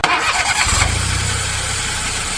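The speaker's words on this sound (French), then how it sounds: "Nous sommes en compagnie de Vincent, imperturbable malgré les sons tumultueux du moteur de sa voiture." A taxi's noisy car engine in Soweto starting up and then running with a loud, rough, steady rumble close by.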